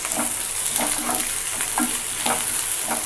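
Two large chopped onions fry in oil in a pan: a close, steady hiss broken by regular scraping strokes of a stirring spoon, with no voices.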